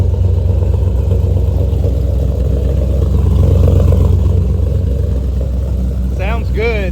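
A rat rod's engine with Borla exhaust and old Texas Speed headers rumbles loud and deep at close range, holding a steady throaty drone with a slight swell mid-way, and a voice speaks briefly near the end.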